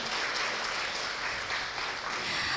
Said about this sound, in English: please give a big applause to all participants in this convention hall